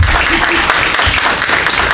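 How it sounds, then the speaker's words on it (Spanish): Loud, close burst of crowd applause at a conference on workplace vibration measurement, thick and continuous through the short stretch, with voices faintly mixed in. "Unos aplausos para motivarlo"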